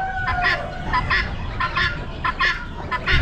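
Young guinea keets and freshly hatched chicks peeping in a brooder, shrill chirps repeating in quick clusters over a constant low hum, close by and fairly loud.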